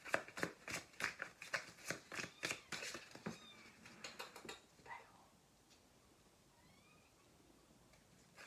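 A cat meows among rhythmic rustling and shuffling noises that fill the first half, then several thin, faint meows follow over near quiet.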